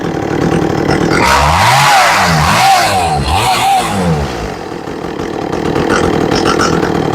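An Echo CS400 chainsaw's two-stroke engine, freshly carburetor-tuned, revs up loud and close in repeated rising and falling bursts, then settles back toward idle without stalling.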